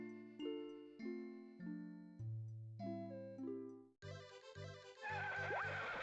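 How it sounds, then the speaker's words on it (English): A horse neighing in the video game Harvest Moon: Grand Bazaar, a brief whinny layered over a bright plucked game melody of chiming notes that shifts into a busier jingle near the end. "And he's gonna bring us a horse."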